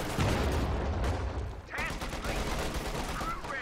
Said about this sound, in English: In comes another anti-infantry strafe. Oh, it pins everything here now, and that's actually 250 cals from Mirage Fly.